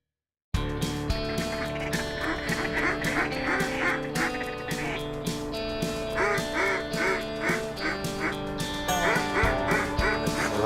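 Ducks quack steadily and loudly at close range during an early-morning waterfowl hunt, with many overlapping calls in bursts over a dense bed of bird noise.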